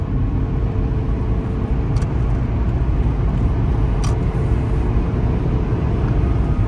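Inside a 2007 Toyota Prius driving on city and freeway roads, a continuous loud rumble of road and tire noise runs steadily throughout, broken only by a couple of faint clicks.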